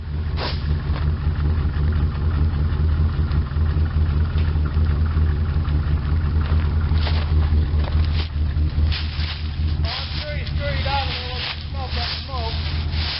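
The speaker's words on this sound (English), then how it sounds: "the Olds is running good, but we're having a little trouble getting through this deep snow" A 1984 Oldsmobile Delta 88 runs nearby with a steady low rumble as it pushes through deep snow. Wind noise is heard, and people talk over the engine.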